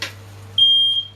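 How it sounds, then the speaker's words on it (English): A household smoke alarm, tripped by cooking smoke from a Sunday roast, lets out one shrill, loud beep that holds steadily for about half a second, following a short thump, with a low steady hum beneath. "Whoa, fire alarm."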